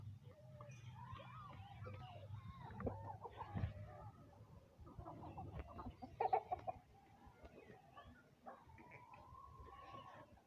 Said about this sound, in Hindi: देख सकते हो अज जेड़े मुर्गियां मुर्गे बड़े खुश ने